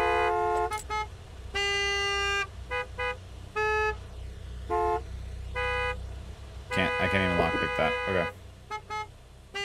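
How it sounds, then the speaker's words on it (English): Car horns honk again and again in the Gas Station Simulator game, with loud blasts of varying length, some overlapping into a frantic chorus near the end, while someone talks over them. "the honking, man, it gets me every time"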